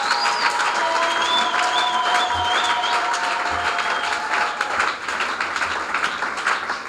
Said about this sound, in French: Si tu es dans la joie, exagère encore avec les acclamations.